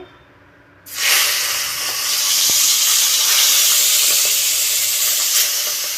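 Fish rubbed with salt and turmeric goes into hot oil in a kadai, setting off a sudden loud sizzle that settles into a sustained, close, bright hiss.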